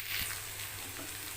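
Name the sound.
carrot, beans, peas, chili and onion lightly frying in pan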